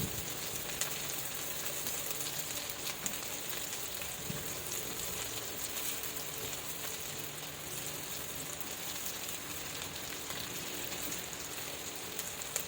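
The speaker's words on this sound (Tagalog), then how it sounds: "So gisahin natin yung ating sibuyas at bawang hanggang sa medyo mag-golden brown" Onion and garlic sautéing in a pan for ginisang togue with tokwa, making a steady, even hiss of sizzling oil that carries on uninterrupted with no voices.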